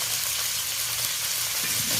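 Cauliflower florets with salt and a little turmeric frying in a pan for a winter bhetki fish curry, a steady close sizzle with soft hiss throughout and no voices.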